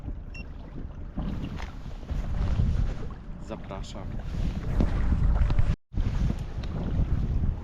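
A boat heads out from a harbor past a large breakwater onto a lake with big waves and strong wind; steady loud wind buffeting and rushing water fill the clip, with a brief spoken word near the end.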